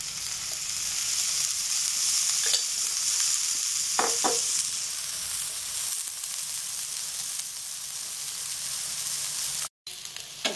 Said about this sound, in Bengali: আমি আরেকবার একটু পাল্টি করে দিচ্ছি মিষ্টিটা ভাজার জন্য।